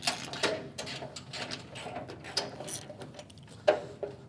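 An 11/16 socket wrench ratchets nuts loose on the 50 ground drive of an ABI manure spreader, giving a run of sharp, close metallic clicks in irregular bursts with one louder snap near the end.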